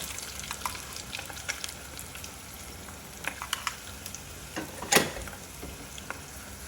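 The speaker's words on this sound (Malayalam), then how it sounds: "എന്നിട്ട് നമുക്ക് ഇങ്ങനെ ഫ്രൈ ആക്കിയിട്ട് എടുക്കാം കേട്ടോ." Food frying on low flame with pepper and chilli powder crackles softly in a pan, with scattered small pops and one sharper spatter near the end.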